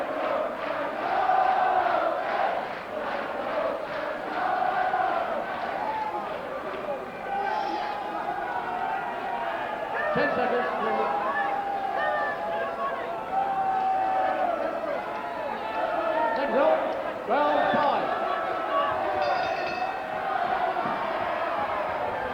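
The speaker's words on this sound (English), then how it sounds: "the crowd have been in full-throated support" A boxing arena crowd roars in full-throated support during a bout, a dense sustained wall of cheering and shouting with periodic swells and bursts, loud and close, while voices call out above it.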